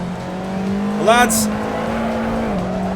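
Touring cars racing on a track in a racing video game: a steady close engine drone holds a constant pitch, with a brief rising rev and a short tire squeal partway through, under a man's brief speech.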